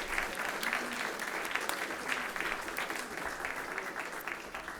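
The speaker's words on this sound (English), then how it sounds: "Please give all these fine candidates a round of applause." An audience at a 2019 candidate forum in Amherst applauds steadily throughout, a dense, moderately distant wash of clapping that holds at an even level.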